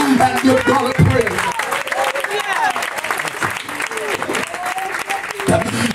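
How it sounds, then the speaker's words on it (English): Congregation clapping hands during a church sermon, a dense steady patter of applause mixed with voices and shouts, fairly loud throughout. "Clap those hands"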